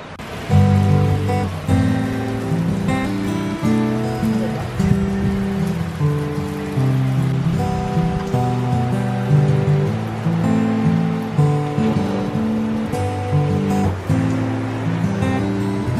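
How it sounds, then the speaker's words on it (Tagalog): Heavy typhoon Shanshan rain pours steadily at Sakurai Shrine in Fukuoka, Japan, a dense, continuous close hiss and patter of drops on surfaces with no pauses. "Maulan. Yan na nga, basing na sa ulan. Kasi may typhoon Shanshan."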